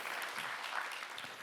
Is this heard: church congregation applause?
yes